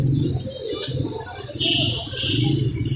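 Soft cooing of local pigeons at a Sunday bird market in Multan, mixed with chirps from nearby birds, steady and close, with people talking over it at times.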